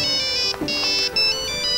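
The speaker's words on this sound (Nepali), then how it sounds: "बाबाको फोन।" Mobile phone ringtone for an incoming call, a bright electronic melody repeating in short phrases, loud and close with no talk over it.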